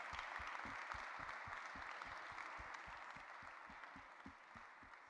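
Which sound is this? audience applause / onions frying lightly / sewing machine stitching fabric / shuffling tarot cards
audience applause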